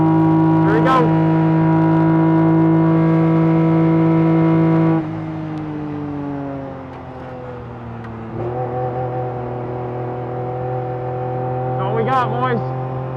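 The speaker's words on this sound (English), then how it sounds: "Just keep that in mind as you watch this lap from Shawn's Mitsubishi truck." A Mitsubishi kei truck running a lap of a race track, its small engine droning in a steady, loud harmonic whine that drops in pitch at each upshift and climbs again, with brief voices breaking in twice.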